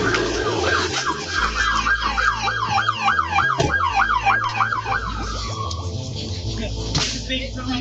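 Police and ambulance sirens wail at an emergency scene, a loud rising-and-falling siren cycling steadily, overlapping tones and traffic rumble beneath, the wail fading off near the end.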